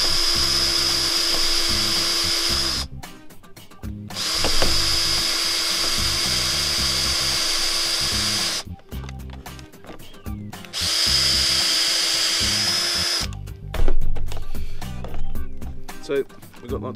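A cordless drill set to forward drive spins a sharpener that grinds shavings off a wooden stick, whirring loudly in three long bursts with short pauses and clatter between, close to the microphone.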